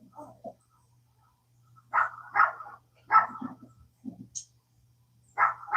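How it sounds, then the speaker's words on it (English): Neighbors' puppies bark in short bursts of yips and barks, several separate volleys at moderate distance with quiet gaps between, over a faint steady low hum. "Oh, the neighbors have puppies. I call it the puppy alarm."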